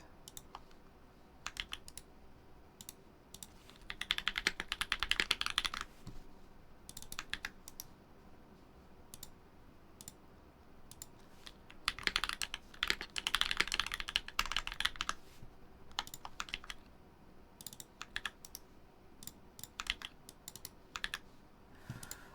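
Typing on a keyboard fitted with Arc 60 Cream Clicky switches, bursts of sharp clicky keystrokes in two fast runs separated by sparser scattered presses, close and fairly quiet with no talking.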